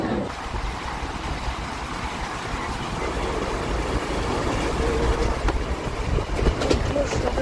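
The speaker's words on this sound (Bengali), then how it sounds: "মালদা টাউনের ট্রেন চলে যাচ্ছে।" A Malda Town train rumbles past a station at moderate distance, a steady rolling roar with occasional rattles and clacks, voices faintly mixed in.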